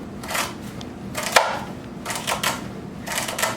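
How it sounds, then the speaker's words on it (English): A kitchen knife chops food thinly for a chicken and gnocchi soup, making a run of quick, crisp taps against the board in uneven bursts with brief pauses between them, close up and moderately loud. "And then you'll chop it from there, again thinly."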